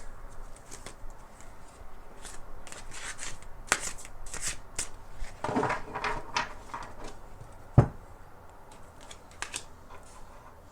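A True Black Tarot card deck is shuffled by hand in repeated riffling bursts of crisp flicking, close and fairly quiet, with a sharp tap partway through and no talking.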